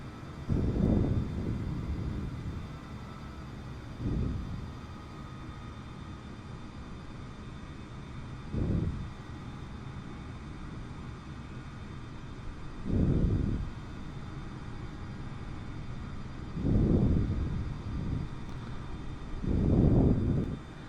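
Airbus A320neo taxiing toward the runway at Istanbul in Microsoft Flight Simulator, a steady engine whine and hum with periodic low rumbling swells every few seconds, moderately quiet and without talk.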